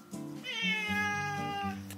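A house cat lets out a single long, drawn-out meow, clear and close, rising then slowly fading over about two seconds with no talking.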